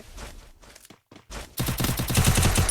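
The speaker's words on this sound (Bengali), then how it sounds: "ও ভাই আবারও হেডশট মেরে দিল ইউএমপি দিয়ে" UMP submachine gun fire in a Free Fire one-on-one custom match: a few sparse shots and footsteps, then a sustained, loud rapid-fire burst up close.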